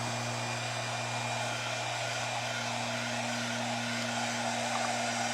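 Heat tool blowing hot air while drying decoupage paper and paste on a wooden tea chest, a steady close whoosh with a constant hum running unbroken throughout.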